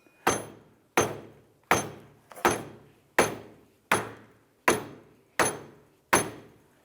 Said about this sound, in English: I'm just using a dead blow hammer or a rubber mallet.